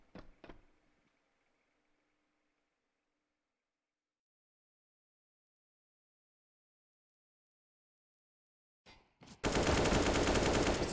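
Glock pistol fire in a Counter-Strike esports match: a few sharp shots at the start, then a long quiet stretch before a loud sustained burst of gunfire near the end.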